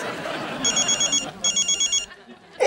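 A telephone rings in two bursts of repeated electronic trills, a short pause between them, with faint voices and room noise underneath in an Indian sitcom household scene.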